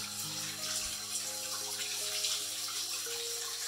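Tap water runs steadily while salted duck eggs are rinsed of black mud under it in a kitchen sink, close and continuous with no talk.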